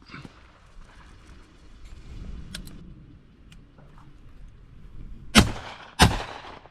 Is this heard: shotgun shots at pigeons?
yes